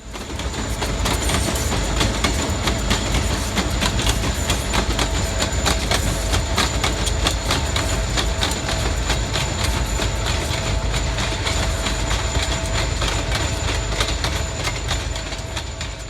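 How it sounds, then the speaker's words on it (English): A Louisville & Indiana Railroad train in Indiana rumbles steadily along well-maintained jointed track, wheels clacking rhythmically over rail joints with a loud, continuous roar from close by. "capture some cool audio of the train running over the well-maintained jointed rail"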